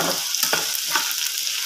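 Baby potatoes fry with soy sauce in a hot pan, giving a dense, continuous crackling sizzle with small bursts as they are stirred, close and fairly loud, with no voices.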